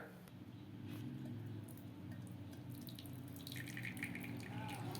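Herbal tea decoction poured off the stove through a strainer, a steady trickling, splashing stream of liquid close by, running continuously without a break and with no talking.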